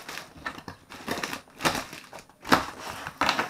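A keyboard from a keyboard-and-mouse set is unpacked. Its packaging gives off close, irregular bursts of crinkling and crushing, with short pauses between handfuls.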